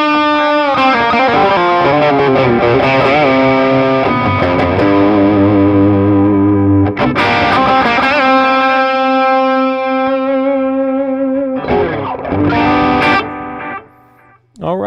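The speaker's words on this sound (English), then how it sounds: "It's a very inexpensive delay pedal, and I love that modulation on top there." An electric guitar played through a Donner Yellow Fall analog delay pedal, loud distorted sustained chords and notes trailing into modulated echo repeats, phrases separated by brief gaps and one near-silent dip at the end.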